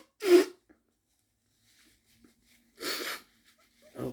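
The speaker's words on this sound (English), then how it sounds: "Need to sneeze and blow my nose." A sharp sneeze, then a pause, followed by a longer burst of nose blowing and a brief sniff, close and otherwise quiet.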